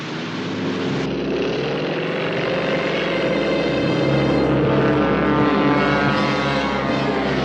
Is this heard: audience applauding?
no